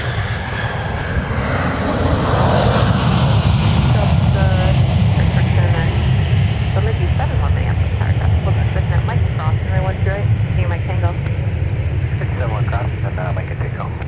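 A Sun Country airliner arrives at Minneapolis–St. Paul airport, its jet engines roaring steadily and loudly throughout, with a lower rumble underneath and some faint voices mixed in.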